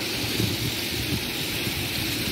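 Rain falls outdoors on a very wet day during a hike, a steady dense hiss of drops with low rumbling underneath, constant and fairly loud with no speech.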